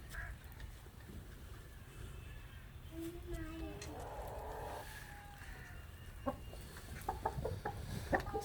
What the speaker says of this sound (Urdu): اور ایک مرغا بھی ہے، یہ